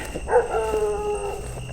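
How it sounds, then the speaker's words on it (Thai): Village dogs bark and whine at night, a drawn-out yelping howl from one dog at moderate distance. A low steady hum sits underneath. "โอ้โหหมาในหมู่บ้านเห่าละงมไม่ผม"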